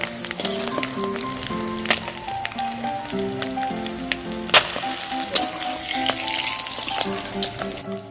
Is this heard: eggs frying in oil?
yes